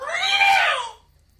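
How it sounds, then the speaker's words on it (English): A single shrill, wavering cat scream, loud and close, lasting under a second before fading to silence. "a thin, reedy, but loud and inhuman scream that came from the cat that Arthur had stepped on"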